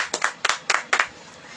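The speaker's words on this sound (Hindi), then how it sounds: "ताली बजाएंगे।" A church congregation claps in an uneven rhythm, several sharp bursts of hand claps close together, then the clapping trails off into quiet.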